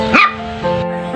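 A young puppy, lively and recovering from illness, lets out one sharp, close yip followed by drawn-out whimpering, whining tones, loud and near with no speech.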